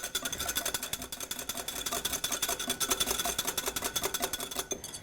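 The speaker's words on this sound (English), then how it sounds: "we're just going to go ahead and whisk it up" Rapid, steady whisking of salt into a salad dressing, a busy continuous scraping rattle of whisk against bowl, fairly close and even throughout with no talk.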